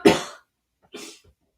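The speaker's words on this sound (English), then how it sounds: "I'm going to cough again." Two coughs, one sharp and loud and then a shorter, softer one after a brief pause, from someone who has something caught in the throat.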